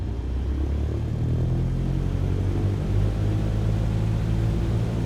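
A light aircraft engine runs at a steady, loud drone during pre-flight power checks, a constant close rumble with a broad hiss and no change in pitch.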